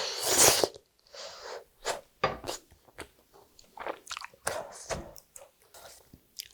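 Someone bites into pizza made from sliced tteok rice cakes and keeps chewing close to the mic, with a run of separate crunchy, squishy bites and short pauses between them.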